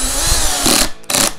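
A power drill drives the bolts of a bolt-on guitar neck, giving loud, close whirring bursts that cut off abruptly with a brief pause between them.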